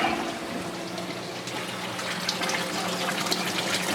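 Steady, continuous gush of water running through the overflow and filter circulation plumbing of a Wyoming reef aquarium setup, a fairly loud, even rushing with small splashy flickers and no speech.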